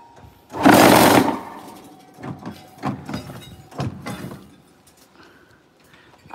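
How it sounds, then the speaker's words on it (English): Vibrating hopper on a concrete block mold machine offloading material, a loud buzzing burst followed by several shorter rattling pulses at uneven intervals. "this machine you see now here is the hopper for the offloading material. It's a little noisy, so the vibration is noisy."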